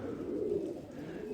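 A pigeon coos softly in low, rounded murmurs, fairly close, with no talking.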